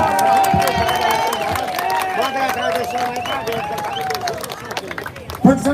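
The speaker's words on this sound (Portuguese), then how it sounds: "Vamos dar uma salva de palmas para o Felipe." A crowd at an outdoor gathering in Brasília claps, with scattered sharp hand claps and overlapping loud voices and babble throughout, and a sudden louder thump near the end.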